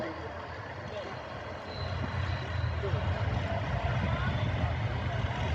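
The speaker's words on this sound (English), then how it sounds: "it may be a Sultan armoured recovery vehicle" Sultan armoured recovery vehicle on the move at a wartime vehicle parade, a steady low engine rumble that swells slightly louder partway through amid outdoor crowd noise.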